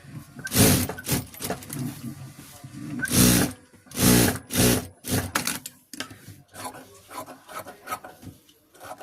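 A sewing machine stitches blouse fabric in short, loud, rasping bursts separated by brief pauses, close up and without talking.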